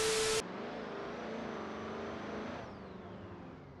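A Ram heavy-duty pickup truck in the BeamNG.drive driving game pulls hard from a dead stop, its engine droning steadily under load before easing off toward the end.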